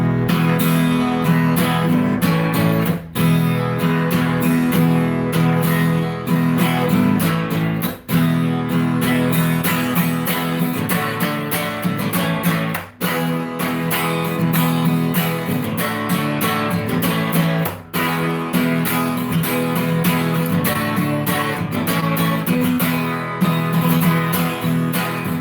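Electric guitar playing the chords of a rock song, a steady, loud strummed part running continuously with a few brief breaks between phrases.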